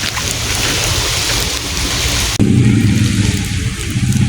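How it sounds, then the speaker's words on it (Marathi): Monsoon rain falls steadily in a garden with standing water, a loud dense hiss throughout that shifts in tone partway through, with no voices. "पाऊस सध्या चालू आहे"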